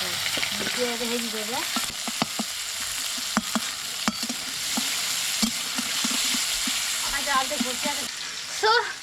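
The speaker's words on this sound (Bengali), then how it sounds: "এখন পেঁয়াজ ভাজছি" Onions sizzle and fry in hot oil with cumin in a home kitchen, a steady close crackle with occasional stirring clicks, while someone talks over it.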